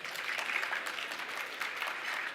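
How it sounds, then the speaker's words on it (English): A breakfast crowd at a Atlanta transit authority event gives sponsors a round of applause, moderate and steady clapping from many hands that carries evenly throughout without speech. "you can give them a clap if you want to"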